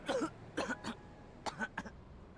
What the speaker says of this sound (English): My excitement drove me to a coughing fit